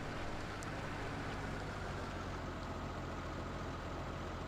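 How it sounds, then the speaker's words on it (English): The engine of a Massey 600 tractor in Farming Simulator 17 runs steadily, a low, even droning hum at a constant pitch that continues for several seconds with no talk. "There you go, the old Massey 600."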